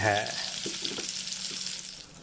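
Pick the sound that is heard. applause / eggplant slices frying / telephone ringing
eggplant slices frying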